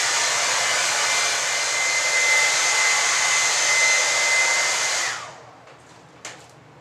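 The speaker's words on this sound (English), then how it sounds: "going to go ahead and bake it with a heat gun or a hair dryer" A heat gun or hair dryer blows steadily and loudly at close range while baking paint on a survival box, then switches off about five seconds in, leaving near silence with a small knock.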